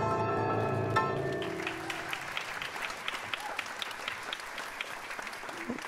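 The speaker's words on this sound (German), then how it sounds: "Applaus." An audience bursts into applause after a Yiddish drag performance, a sustained held musical note fading out at the start as dense clapping takes over and continues evenly.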